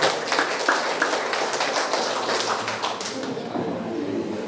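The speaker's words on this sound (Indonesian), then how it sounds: "Tepuk tangan." Applause from the audience at a DPRD Lampung Tengah legislator's constituency recess meeting in Way Pengubuan district, a steady wash of many hands clapping through the whole stretch, fairly loud and close.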